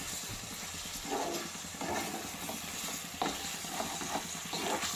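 Chicken curry in a pot being stirred again, with repeated soft scrapes and thick bubbling under a steady low hum, moderately quiet throughout.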